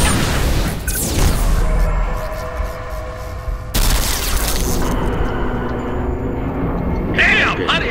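Heavy artillery barrages in the Halo Reach video game erupt in a loud, dense wall of blasts and rumbling booms, with a sharp new explosion about halfway through and a crash near the end, while voices talk underneath.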